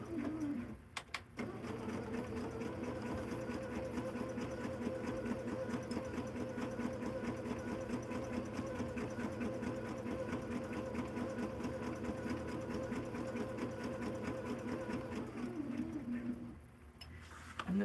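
A sewing machine stitches steadily for about fifteen seconds with a fast, even mechanical whir, starting after a short pause and stopping near the end, while pigeons coo faintly in the background.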